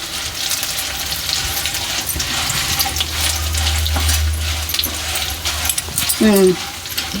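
Ingredients for gongura pickle frying in hot oil, a steady close sizzle with occasional stirring scrapes running throughout, a low hum joining midway and a few clinks near the end.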